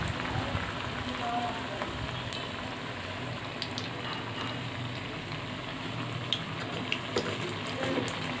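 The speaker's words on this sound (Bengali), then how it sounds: "একে একে আমি বেগুনগুলো ভেজে নিব" Brinjal (aubergine) slices fry in hot oil, giving a steady, even sizzle and crackle throughout with a few faint clicks near the end.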